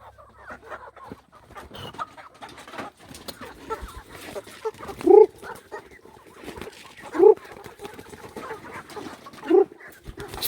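Four-month-old native chickens at feeding time cluck and squawk in a few loud, close bursts over a busy background of scratching, shuffling and a dog's whimpers and barks, with someone speaking intermittently.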